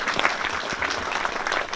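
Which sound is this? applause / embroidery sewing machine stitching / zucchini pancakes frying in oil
applause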